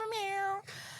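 A person imitates a cat's meow with their mouth: one drawn-out, clear, slightly rising-then-falling meow that cuts off abruptly, followed by quiet room tone.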